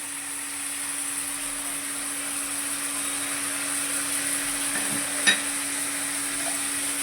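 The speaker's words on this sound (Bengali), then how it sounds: "আমি ভালো করে নেড়ে নেব" Poppy seeds and potatoes sizzle in a pan while a utensil stirs and scrapes, with one sharper clack near the end, over a steady hum.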